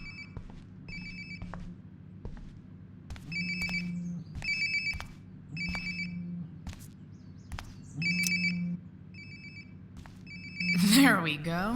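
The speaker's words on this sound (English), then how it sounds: "Sounds like my phone is definitely nearby." In the game Life is Strange: Before the Storm, a mobile phone rings nearby in repeated trilling bursts at a steady rhythm, with footsteps and a voice speaking between rings.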